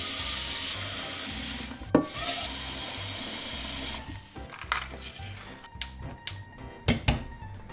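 Tap water gushes into a pot in a home kitchen for boiling pasta, a loud steady hiss for about four seconds before the flow changes, followed by clinks and knocks of pots and utensils.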